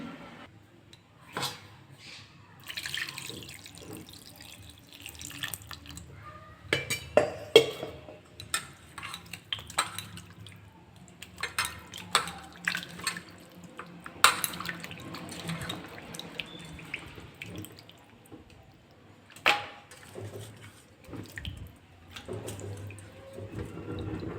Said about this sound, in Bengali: এটাকে আমি প্রথমে ভালোভাবে জল দিয়ে ধুয়ে নিচ্ছি